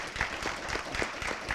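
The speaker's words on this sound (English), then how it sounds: "if I could get a small hand of applause for the guys who aren't here" An audience at a school district board meeting gives a brief round of applause, a soft, diffuse wash of many hands clapping at a steady level for a second or two.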